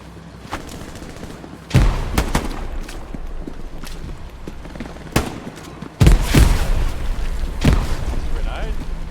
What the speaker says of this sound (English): picked up on the shots coming from the left